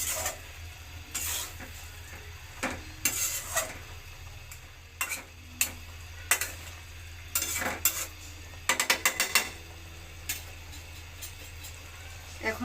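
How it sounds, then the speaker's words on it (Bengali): Kochur loti and prawn curry are stirred in a pot, with a run of irregular scraping knocks and clattering taps from the spoon against the pot over a low steady hum. "একটু ভালো করে নেড়ে চেড়ে দেব।"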